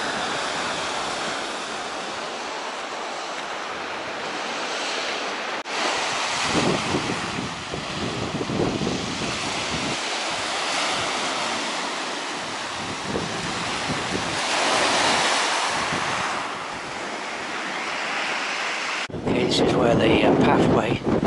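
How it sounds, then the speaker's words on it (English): Ocean surf washes against the rocky Mediterranean coast near Torre del Aguilo, a steady broad rush of breaking waves heard close by with gusts of wind buffeting the microphone. "That's what I like, the sound of the surf."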